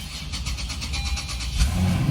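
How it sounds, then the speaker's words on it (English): A 2022 Toyota Land Cruiser fires up from its push-button start, a steady engine note rising near the end into a fuller idle, close and clear with no talking. "and the car turns on."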